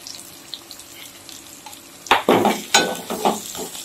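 Turmeric going into a sizzling gongura prawn curry: a low, quiet sizzle, then a sudden louder hiss and stirring scrapes as the spice hits the pan, close and without talk.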